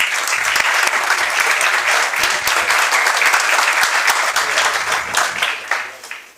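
An audience claps at a Spanish-language book presentation, with steady, dense applause filling the room for several seconds before it begins to fade at the end.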